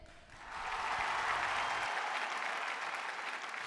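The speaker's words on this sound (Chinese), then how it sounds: "让我们用掌声把他们请回辩论台" A studio audience applauds to welcome a debate team back to the stage, a dense burst of clapping that swells quickly, then holds steady and loud without voices.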